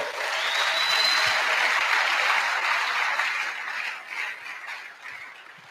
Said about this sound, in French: Acclamons le Seigneur très très fort